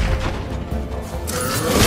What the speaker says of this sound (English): One of those light bombs!